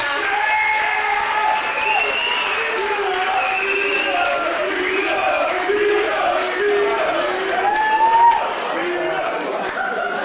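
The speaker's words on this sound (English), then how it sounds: "Can we give a massive applause for Peter?" An audience at a university presentation evening on the Warrington Campus applauds Pro Vice Chancellor Peter Harrop, steady clapping mixed with cheers and crowd chatter, with whoops and voices rising over the applause throughout.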